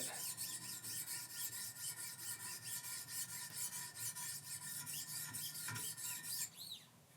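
Steady rhythmic rasping of a knife blade being stroked on a Wicked Edge guided sharpener, close and continuous with repeated even passes along the edge, ending in a slightly softer final stroke.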